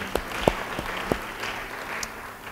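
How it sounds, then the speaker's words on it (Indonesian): Scattered applause from a church congregation during a sermon, a few distinct claps standing out over a soft murmur of background noise for a couple of seconds. "Yang setuju beri tepuk tangan buat Tuhan."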